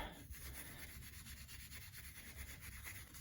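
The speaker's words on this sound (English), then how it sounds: "using fine steel wool that has soap in it. I found this in a grocery store before, and you can give it a nice scrub." Fine soapy steel wool scrubbing a Harley-Davidson CV carburetor part, a steady close rasping rub that keeps going for a few seconds with no one talking.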